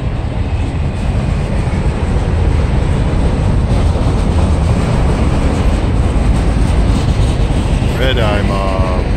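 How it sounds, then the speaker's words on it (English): A mixed freight train slowing down, with loud continuous rolling rumble and rail noise close by, a brief squealing screech near the end, no talk. "Train's slowing down."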